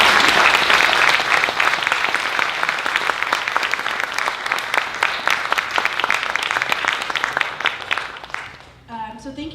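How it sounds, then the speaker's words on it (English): Sustained audience applause for candidates at a student-run candidates forum in Albany, loud and dense throughout, thinning out abruptly at the very end as a voice starts speaking. "So let's give a round of applause to our candidates."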